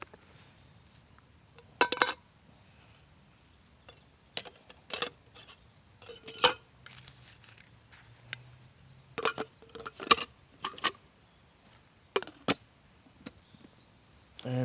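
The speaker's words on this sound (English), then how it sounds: "on camera so you can see that it actually does all fit together. All go into Jetboil itself." Metal parts of a Jetboil camping gas stove clink, tap and rattle as they are nested together, in scattered short bursts, close and fairly quiet, with no talk.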